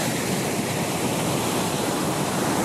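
Stormy sea pounds a ship during a terrible storm in an animated telling of the fall of Troy and Odysseus's voyages, a loud, continuous roar of crashing surf and spray with no breaks.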